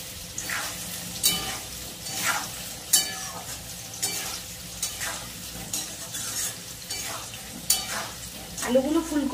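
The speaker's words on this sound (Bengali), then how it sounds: "আলুগুলো একটু হালকা ভেজে নেবো।" Potatoes, already half-boiled with cauliflower, fry lightly in a pan with a steady close sizzle, broken by repeated scraping strokes of a spatula stirring them; a brief voice enters at the very end.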